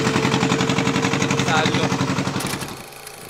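A fishing boat's engine runs just after starting, with a loud, close, rapid chugging throb that fades toward the end while someone speaks briefly over it.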